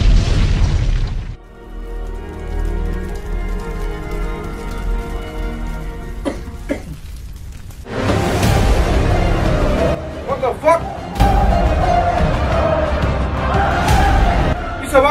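A movie bomb explosion erupts in a deep, sustained roar with heavy low rumble and crackling debris, following an earlier booming blast and rumbling aftermath, loud and dense throughout.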